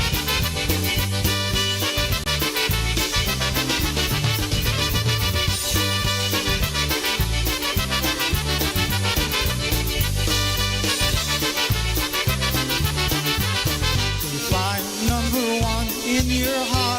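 A polka band plays dense, steady music with a bouncing beat and a full mix of instruments, loud and continuous throughout, with no talking over it.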